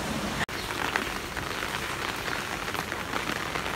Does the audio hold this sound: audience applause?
no